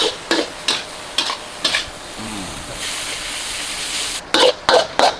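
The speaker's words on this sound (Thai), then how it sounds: "เสร็จแล้วก็ผัดต่อ ใช้ไฟอ่อนๆนะครับในการผัดไม่ต้องใช้ไฟแรง" A spatula scrapes and stirs spring roll filling in a pan over low heat, in sharp, evenly spaced strokes above a soft, steady sizzle, with a brief pause before a quick final burst of stirring.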